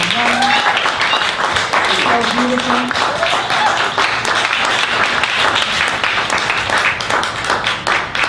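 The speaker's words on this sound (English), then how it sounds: "Give our dancers another round of applause." Loud, dense applause from an audience for dancers at an ancestral veneration ceremony, sustained and even throughout, with voices speaking over it.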